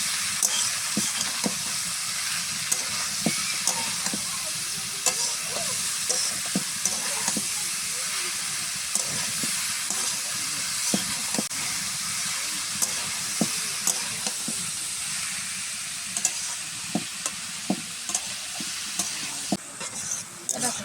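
Slit green chillies and ash gourd pieces fry in a pan, with a constant bright sizzle and repeated scraping, knocking stirs against the metal throughout, close and fairly loud.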